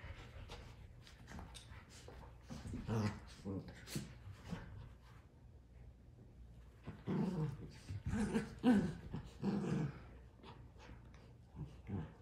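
A puppy and an older dog play together, trading growls, snarls and yips in scrappy bursts up close, with quiet gaps between rounds and a person speaking at times.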